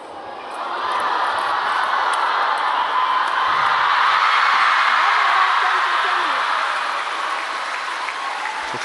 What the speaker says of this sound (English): If you're hearing the eruption in the crowd